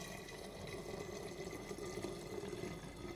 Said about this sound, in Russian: И это все мы переливаем в эту бутыль.